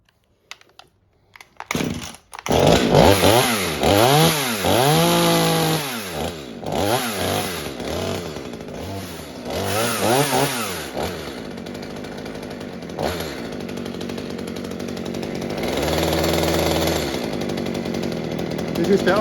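A mini chainsaw engine revs repeatedly in rising and falling bursts during carburetor adjustment, then settles into a steadier run near the end. Loud and close, with talk over it at times.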